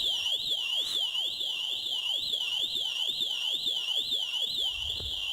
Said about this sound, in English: as soon as you open the door, it's showing another intrusion and the alarms are going to keep going off